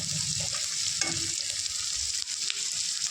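Chopped onions fry in a pan with cumin seeds for a rohu fish curry, giving a continuous close sizzle with scraping stir strokes and a few clinks over the short stretch.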